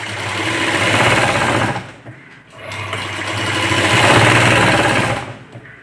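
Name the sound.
sewing machine stitching strips for blouse latkan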